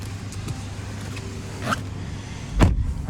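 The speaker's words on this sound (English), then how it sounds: "Right here's your 10-way power driver seat adjustments." Power driver seat motor in a 2024 Chevrolet Colorado ZR2 crew cab, a faint low whir adjusting the 10-way seat, ending in a brief louder clunk, close inside a quiet cabin.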